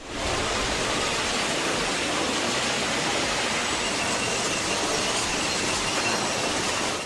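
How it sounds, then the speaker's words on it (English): A specialized rail train delivering long sections of continuous welded rail rumbles past with a dense steady roar of wheels on track, loud and unbroken throughout. "the rails are delivered by specialized rail trains"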